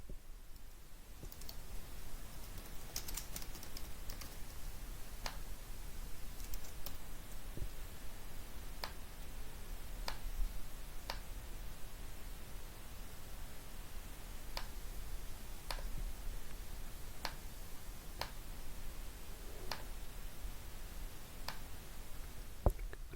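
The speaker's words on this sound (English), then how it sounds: "We'll start typing in the information here for our contact." Sparse, crisp clicks of computer keyboard keys, tapped one at a time at irregular intervals during data entry in office software, faint over a steady low hiss with no talking.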